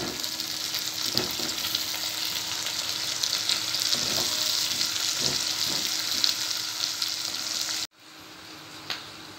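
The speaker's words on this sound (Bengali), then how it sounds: "এরপর আমি এর মধ্যে ক্যাপসিকামগুলো হালকা করে ভেজে নেব।" Capsicum, tomato and chopped green chillies stir-fry in a pan with a loud, continuous sizzle. Scraping stirs knock through it at intervals before the sizzle cuts off abruptly, leaving a quieter hiss with one final knock.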